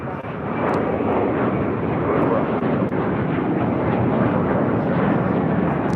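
An aircraft crosses a runway at LAX, its engine a loud, steady broadband roar that holds through the whole stretch with no speech over it.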